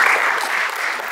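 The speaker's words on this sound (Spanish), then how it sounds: "Un fuerte aplauso." An audience at a presentation in Ecuador breaks into strong applause, a short dense burst of many hands clapping close and loud, steady throughout.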